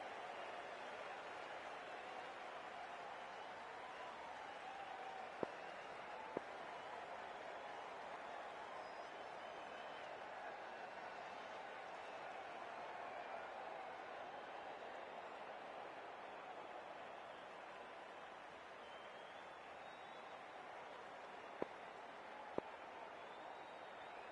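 Steady, distant roar of a stadium crowd in a PS5 cricket match, a continuous broadband wash holding at an even level through the whole stretch, with only a couple of brief clicks and no clear individual voices.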